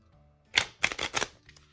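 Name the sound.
shuffling a deck of playing cards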